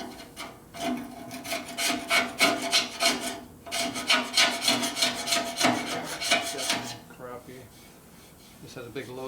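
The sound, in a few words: scraping old gasket material with a gasket scraper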